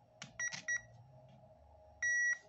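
An RC car speed controller set for LiPo batteries gives its startup signal: several short electronic beeps early on and a longer beep near the end, clear and close over a faint background hum.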